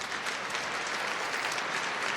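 Dense, even clapping from many hands, a steady wash of applause with no voices over it.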